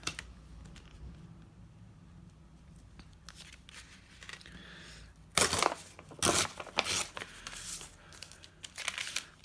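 Decorated plain paper bag torn by hand, with a few sharp ripping and crinkling bursts in the second half after quieter paper handling, close by.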